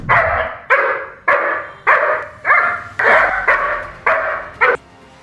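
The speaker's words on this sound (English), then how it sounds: "The dog just keeps on barking" A guard dog barks at an intruder repeatedly in a steady rhythm, about nine loud, close barks evenly spaced with no other sounds.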